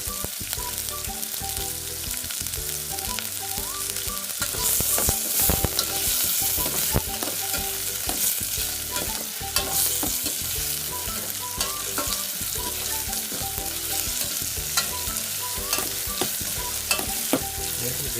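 Pork and tomatoes fry in a pan for a Filipino minonggohang baboy lunch, making a dense continuous sizzle broken by frequent scraping stirs and utensil clinks, with no voices throughout.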